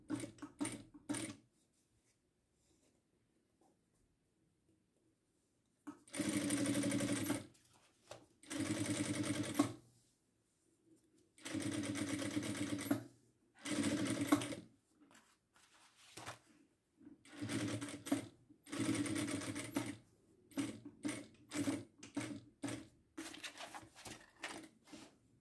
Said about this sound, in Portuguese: E vou passar uma costura bem rente aqui embaixo, ó.